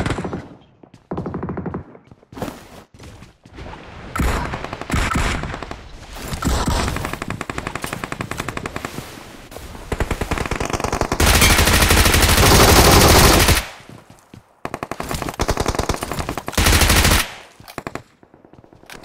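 Rapid automatic gunfire from the battle royale video game BGMI, loud close bursts of varying length with short pauses between them and a long sustained volley in the middle.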